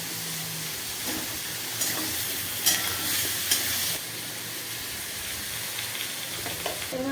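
Tomato is stir-fried in a pan with Malabar spinach and potato, giving a steady close sizzle with a few scraping stirs and brief louder bursts, and no talking.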